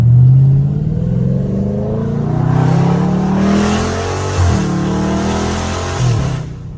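A loud Dodge Scat Pack revs and accelerates hard through a neighborhood, the engine note climbing through gears with audible shifts and dips in pitch, close and dominant with no talk over it.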